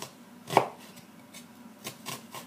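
A knife chopping an onion on a cutting board, giving a few sharp, close knocks spaced irregularly, one louder strike followed by softer cuts.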